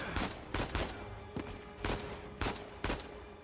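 Gunshots in Uncharted 4, with about six sharp, loud reports spaced irregularly over a steady background of game ambience.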